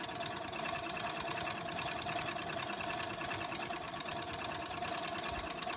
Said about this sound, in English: I'll get going on a straight here and see how fast we can get it done.